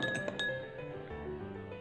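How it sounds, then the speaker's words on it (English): A spoon stirs sugar into a glass, giving a few light metallic clinks at the start that fade into a faint continuous swirl, quiet and close, with no talking. "Now we will mix sugar in our second glass and stir it with spoon."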